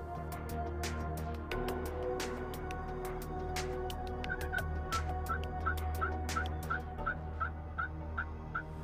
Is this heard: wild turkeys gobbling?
yes